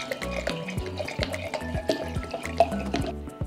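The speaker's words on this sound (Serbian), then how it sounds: "Sada ću ga sipati u jedan bokal" Cheap white wine poured into a jug, a close, quiet trickle of liquid broken into small splashy drips that runs steadily for a few seconds, with no voices.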